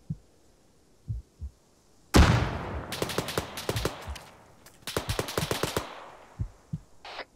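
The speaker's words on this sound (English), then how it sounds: "Put the rounds into him, Sam." Gunfire in a military video game operation, with a loud blast followed by several rapid automatic bursts and scattered single shots, close and sharp against quiet gaps.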